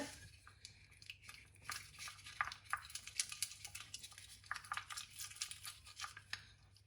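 A small spoon stirs and clinks while mixing rose water in a small dish. The scraping and tapping are quick and irregular, close and quiet.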